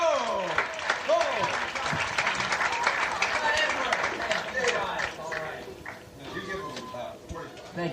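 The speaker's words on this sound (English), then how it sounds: "Let's have a nice big round of applause." Dense applause from a large comedy show audience, clapping and cheers filling the room, with voices shouting through the noise.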